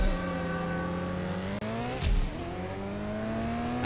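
In the racing game CSR2, a car engine revs loudly with a steadily climbing pitch, briefly dipping at a gear change before pulling upward again, with no voices over it.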